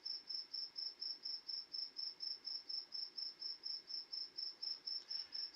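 A single cricket chirps in a steady, evenly spaced rhythm of rapid trills, clear and close against a quiet night background.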